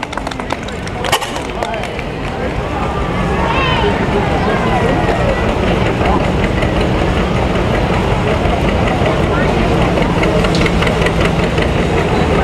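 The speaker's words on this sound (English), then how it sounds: "Here comes John Deere 70" A late-1950s John Deere 70 tractor engine chugging steadily at a cotton gin festival, a loud continuous running rumble building as it approaches, with people talking over it.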